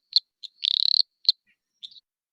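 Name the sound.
eastern dwarf tree frog (Litoria phalax) calling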